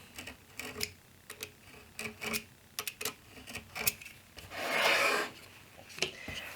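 Pencil marking a measurement on wood for a picture frame jig: a series of short, close scratchy ticks and strokes, with one longer rubbing stroke partway through.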